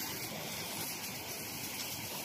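Water splashing and rushing steadily while a dog plays and chases it, forming a continuous broadband wash with no talk.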